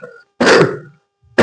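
A single harsh cough bursts out loudly, then trails off, with the onset of another following a short pause, during a classroom chemistry demonstration of solutions.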